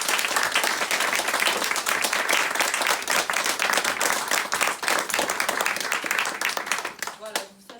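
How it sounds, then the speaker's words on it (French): Audience at a book launch breaks into a full, dense round of applause, loud and sustained for several seconds before tapering off at the end as a voice emerges. "Ça vaut un applaudissement."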